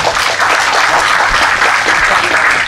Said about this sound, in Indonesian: tolong tepuk tangannya lagi